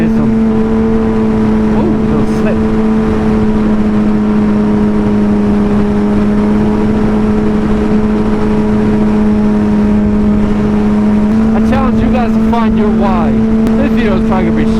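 Vehicle cruising on the highway, a steady loud engine drone with a constant pitch and rushing wind noise throughout, unchanging for the whole stretch.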